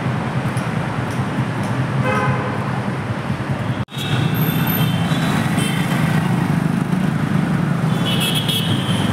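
Busy road traffic near Attiguppe metro with steady vehicle rumble and several sharp horn toots, including a cluster near the end, no talking.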